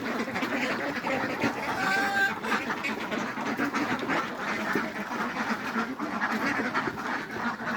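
A flock of ducks at a duck farm quacks continuously nearby, many voices overlapping into a loud, steady clamor.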